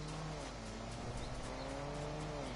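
A car driving in Fortnite, a steady engine drone with tire noise running continuously at moderate level, no talk over it.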